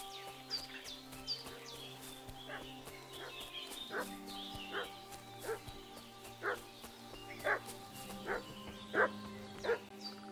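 A dog in Kingdom Come: Deliverance II barks repeatedly in a steady, insistent rhythm, each bark short and moderately distant, growing slightly louder over a quiet ambient background.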